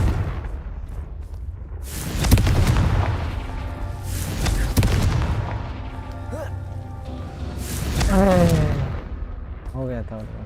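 A Confringo spell explodes in the video game Hogwarts Legacy, with heavy booming blasts erupting twice and rumbling off amid game effects, while someone talks over the action.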